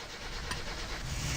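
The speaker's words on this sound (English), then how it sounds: "Attempt 2 at starting the car, and against all odds," A car engine starts and runs after a repair attempt, giving a brief, loud, rough rumble heard close up.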